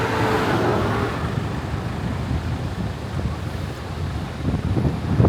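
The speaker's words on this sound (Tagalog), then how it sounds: "watch these waves crashing down on a Filipino beach in Ilocos Norte" Ocean waves crash and wash up on a beach in Ilocos Norte, Philippines, with steady wind buffeting the microphone; a broad continuous roar with surging swells, close and fairly loud, no talk.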